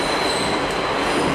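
A passenger train rides along its rails on a long commuter journey, with a steady, close, continuous rumble and a faint high wheel squeal running throughout and no talking.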